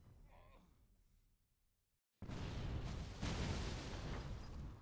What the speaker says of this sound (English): The western side of the cathedral is under heavy bombardment.